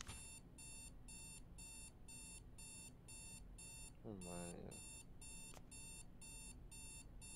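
A video game alarm clock rings in regular, evenly spaced electronic beeping bursts, loud and continuous, while a voice briefly speaks over it.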